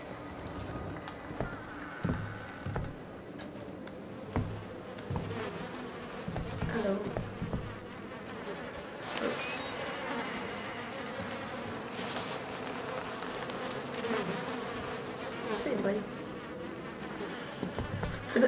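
Flies buzz steadily throughout a stretch of the horror video game Outlast 2, a close, continuous insect drone layered over busy in-game noises, with occasional voices talking.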